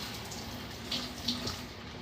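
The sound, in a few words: rinsing kitchen tongs under running tap water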